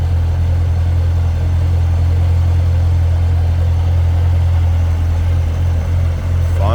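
A 2015 Chevrolet Corvette Z06 convertible's supercharged 6.2-liter LT4 V8, with dry sump and 8-speed automatic, idles with a loud, steady, deep rumble close by, alone and unbroken throughout.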